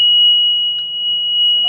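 A generator controller alarm sounds during a generator and transfer switch test: one steady, piercing high-pitched electronic tone held without a break, loud and close, with faint background noise beneath.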